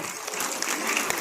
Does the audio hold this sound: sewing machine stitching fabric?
no